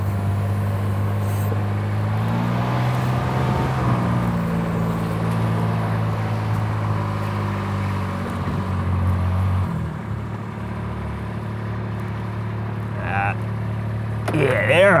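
A Kubota RTV X utility vehicle idles and strains on a steep hill, its engine a steady close mid-pitched drone that shifts pitch partway through, with someone talking over it.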